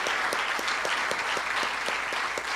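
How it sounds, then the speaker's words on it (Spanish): A church congregation claps in quick, steady rhythmic unison, a dense bright clatter of many hands filling the room, with no voices standing out. "¿Por qué le damos un aplauso al Señor?"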